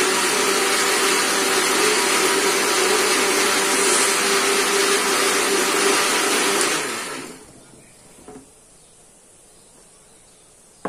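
A kitchen mixer whirs loudly and steadily while blending a strawberry shake for about seven seconds, then switches off and winds down into near silence with a faint clunk.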